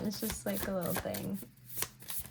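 Tarot cards shuffled by hand in soft, quick riffling bursts that run underneath a person talking throughout.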